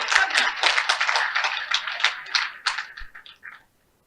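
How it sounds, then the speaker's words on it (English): An audience at a women's hall of fame induction ceremony applauds with steady, dense clapping that fades out near the end, with no talk over it. "Please give me a round of applause."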